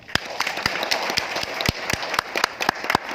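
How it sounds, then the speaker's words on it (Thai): A small group clapping irregularly at a project kick-off event, sharp distinct claps scattered over a few seconds rather than a full roar of applause. "ให้ทุกคนปรบมือให้ตัวเองนะครับ"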